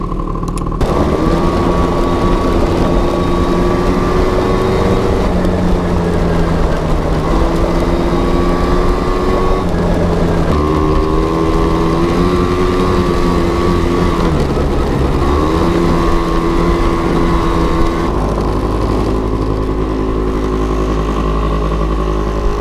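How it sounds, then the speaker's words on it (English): A 2004 Bombardier DS90 90cc two-stroke quad ridden under load after a carburetor rebuild, its buzzy engine loud and close throughout, rising and falling in pitch as it revs, accelerates and shifts, with no talk. "So now that we have this little quad running good, let's take her out for a spin"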